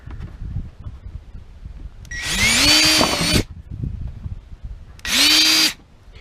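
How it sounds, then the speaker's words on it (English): A power drill bores a hole through cracked plastic in two bursts, a longer whining run that winds up and cuts off, then a shorter one. Both are loud and close, with quieter handling noise between them. "I guess I could have used a little bit smaller drill bit"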